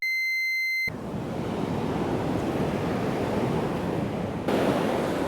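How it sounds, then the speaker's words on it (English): Sea waves washing onto the shingle at Bee Sands Beach in South Devon, a steady loud roar of surf with wind buffeting the microphone after a brief electronic beep tone at the start, swelling louder near the end. "that wave's just broke my"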